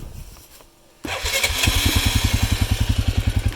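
After a quiet pause, an Arctic Cat 450i 4x4 ATV single-cylinder engine cranks and fires up, then settles into a close, rhythmic, evenly pulsing idle with a distinct thump on each beat.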